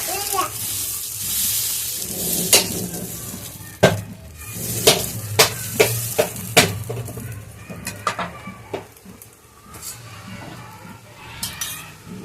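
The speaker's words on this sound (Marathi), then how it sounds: "2 चम्मच बॅटर टाकायचं आणि त्याला छान असं पसरून घ्यायचं" Fasting dosa batter sizzles steadily on a hot pan while a spoon scrapes and taps the metal to spread it, close and clear with no speech.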